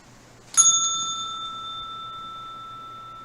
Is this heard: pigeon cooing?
no